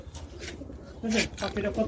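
Pet pigeons coo softly nearby in low, repeated murmurs at a pigeon farm, mixed with voices talking over them.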